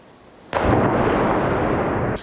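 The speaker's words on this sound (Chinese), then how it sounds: "乌克兰首都基辅传来阵阵爆炸声响。" A single heavy blast from a Russian missile attack on Kyiv hits suddenly and rolls on as a loud, deep rumble for well over a second before cutting off.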